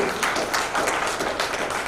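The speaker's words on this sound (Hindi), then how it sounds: "एक बार जोरदार तालियों से आनंद राज साहब का सम्मान है।" Audience applause at an NGO function held at a hotel in Jodhpur, a steady, fairly loud wash of many hands clapping together with no talking over it.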